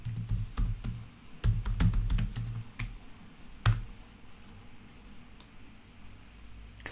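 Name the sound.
typing a Facebook password on a computer keyboard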